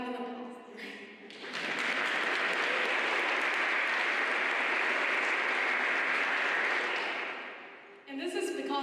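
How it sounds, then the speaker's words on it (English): Audience applause at an 8th grade graduation in a school setting, a loud sustained burst of clapping that swells in quickly, holds for several seconds, then fades, with speech just before and after. "Can I have an applause there?"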